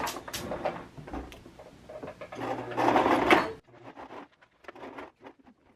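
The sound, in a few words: sewing machine sewing two pieces of elastic together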